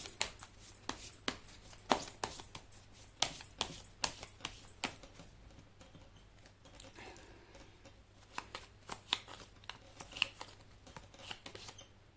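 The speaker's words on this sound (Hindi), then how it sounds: "कर लेती हूँ कार्ड की शफलिंग" Tarot cards being shuffled by hand, a close run of crisp riffling snaps and slaps in quick irregular bursts with brief pauses, papery flicks over a quiet background, no talking.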